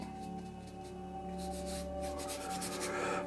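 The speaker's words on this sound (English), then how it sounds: "See if we can just scrape it on here first." Paint being scraped onto a dark evening landscape painting, giving soft, close rubbing strokes in short repeated passes over a quiet, steady hum.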